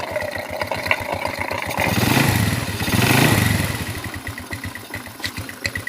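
An old Honda Revo motorcycle engine with a damaged motor idles in a steady, close putter, then swells twice under the throttle before settling back to idle.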